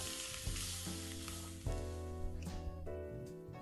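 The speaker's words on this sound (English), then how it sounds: "The bubbles sizzle and pop." Fry bread dough sizzles steadily in hot oil in a skillet over a flame, a continuous close frying hiss with occasional pops and bubbling, no voices.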